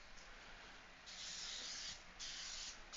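A spray bottle gives two quiet, close hissing bursts, each lasting close to a second, with a short pause between them and no talking.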